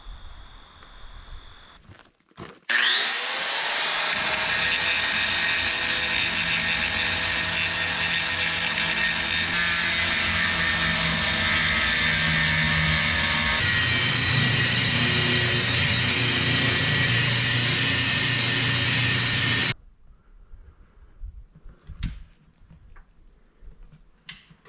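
An angle grinder flattens steel welds on an RV body in one long, loud, continuous roar of about seventeen seconds, with shifting pitch as the disc bites, followed by quieter clatter.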